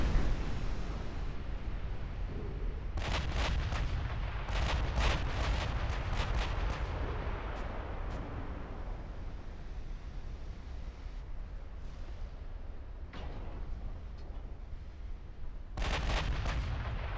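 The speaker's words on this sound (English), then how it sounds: "those 19-inch guns did some mean things to my battlecruiser." Heavy 19-inch naval guns fire in a World War II–era naval battle video game, booming in dense bursts near the start, then a rumbling lull and another sharp volley near the end, with no talk.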